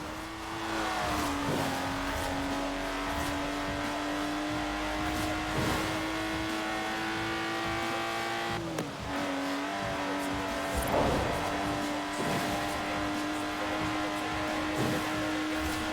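Lotus Exige sports car in Forza Horizon 4, its engine droning steadily at high revs with a brief dip and gear change near the middle, continuous and close, no voices.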